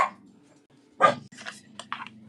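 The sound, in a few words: dogs barking in the studio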